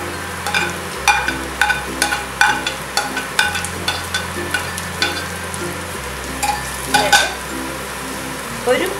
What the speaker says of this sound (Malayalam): ഉള്ളി പെട്ടെന്ന് വഴന്ന് കിട്ടാൻ മതി